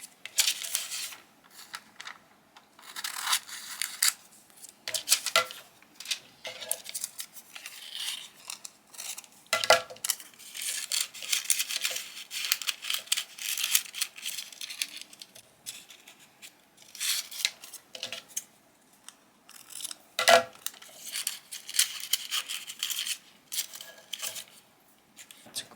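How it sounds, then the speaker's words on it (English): Scissors snip through parchment paper, producing a steady run of crisp, close cuts and papery rustles with short pauses between strokes, no voices. "let's cut up our parchment paper that we're going to use to line the boxes"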